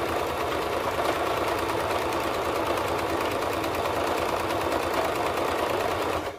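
A sewing machine zigzag stitching the hem of a crop top, a fast steady mechanical whirring and rattling that runs unbroken at close range before stopping abruptly at the end.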